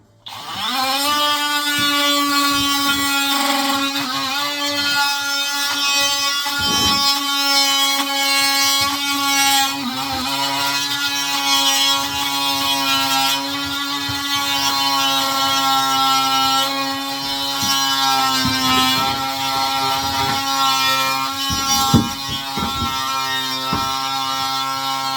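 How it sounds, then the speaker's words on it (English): A multi-tool cutting during small bathroom plumbing work, a loud, steady high-pitched buzzing whine running continuously with slight shifts in pitch as the blade bites, no talking. "Going to use my multi-tool."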